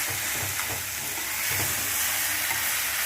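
Banana stem curry cooks down in a pan while a spoon stirs it. A soft, steady sizzle and hiss carries faint scraping strokes, and no one speaks.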